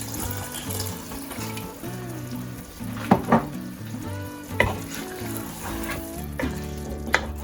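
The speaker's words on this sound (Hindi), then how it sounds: "यहाँ मैं इसमें डाल रही हूँ हाफ ग्लास पानी।" Half a glass of water splashes into a hot pan of frying minced meat and potatoes, setting off loud sizzling and bubbling with a few sharp crackles and clatters, no one talking.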